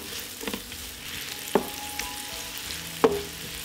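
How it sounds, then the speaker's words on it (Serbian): Onion and chopped garlic frying in melted butter, a steady soft sizzle with a few sharp stirring clicks of a utensil against the pan, close up and with no talking. "Na istopljenom puteru propržit ću crni luk. Dodajem i seckani beli luk i sve ću zajedno propržiti."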